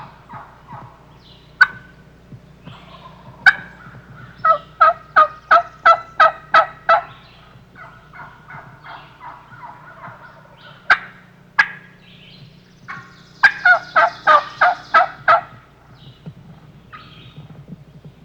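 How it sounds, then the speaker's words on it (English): Wild turkey gobblers in a valley, joined by hens, gobble in quick rattling volleys separated by scattered single calls and yelps, moderately close and clear in open country with no voices. "there are a couple of gobblers in this valley with female company"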